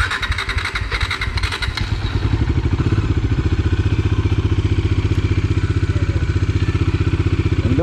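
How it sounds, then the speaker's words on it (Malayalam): A Bajaj Dominar 400 motorcycle with starting trouble cranks with rapid clattering, then catches and runs with a loud, fast, uneven engine thumping close by. "എന്തായാലും വണ്ടി രാവിലെ ഒരു സ്റ്റാർട്ടിംഗ് ഇഷ്യൂ ഇപ്പോൾ കാണിച്ചു"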